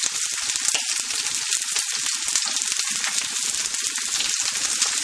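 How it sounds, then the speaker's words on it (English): Onions and garlic sizzle steadily in a pan over low heat, a continuous bright crackle and hiss close up with no talking. "Just turn on your heat to low and let the onions and garlic cook."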